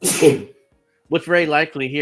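A single sharp sneeze bursts out at the start, loud and close, followed by a brief silence and then someone speaking.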